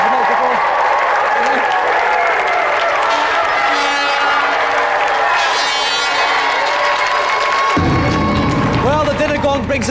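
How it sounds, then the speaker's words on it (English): Sustained applause and cheering from a large studio audience at the close of a TV game show, steady and loud throughout, with some voices mixed into the crowd noise. "that's another round of applause again for Auntie Mauricia and Letty Edwards."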